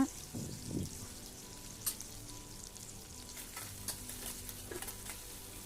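About ten small onions, cut up, fry softly in a pan with a few curry leaves, giving a quiet, steady sizzle, with occasional light stirs and scrapes close by.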